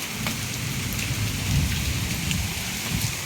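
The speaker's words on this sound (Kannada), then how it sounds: "ಡೇಂಜರ್ ಆಯ್ತಪ್ಪ ಮಳಿ, ಅವಘಡ ಮಳೆ ಆಯ್ತು" A heavy hailstorm in Vijayapur, north Karnataka, with hail and rain pouring down in a dense, unbroken patter and hiss, loud and close, with no voices.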